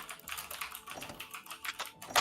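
Rapid clicky typing on a computer keyboard during a Monster Hunter World: Iceborne game session, a steady close patter of keystrokes with a sharper burst of clacks at the end, no talking.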